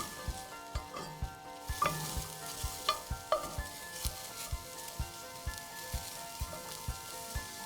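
Sliced fresh shiitake mushrooms cooking in a pan, a soft sizzle carrying a steady run of regular light ticks and taps, fairly quiet with no talk.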